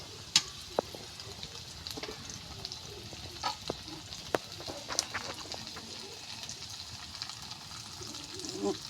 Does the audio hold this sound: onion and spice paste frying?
yes